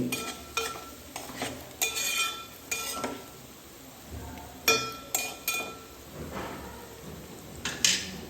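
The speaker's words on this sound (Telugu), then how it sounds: "చిన్నగా ఈ విధంగా కలుపుకోవాలి" A curry being stirred in a cooking pan, with irregular scraping strokes and light clinks of a spoon against the metal over a faint background.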